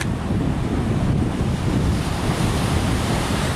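Ocean surf rolling steadily onto shore, a continuous broad wash of breaking waves with heavy wind buffeting the microphone, loud and unbroken with no voices.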